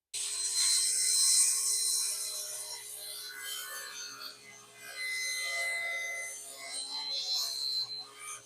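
Wooden strips are cut for a basket weave cutting board with a steady abrasive rasping, sawing sound, close and fairly loud in long continuous strokes, alongside a faint steady hum.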